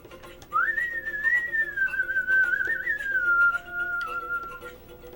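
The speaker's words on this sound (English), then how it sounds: "The whistling happening right now sounds like Gandalf doing his." One steady whistled tone glides and wavers for several seconds like a wizard calling his horse, loud and close, then fades to a quieter held note with a soft background hum and no speech.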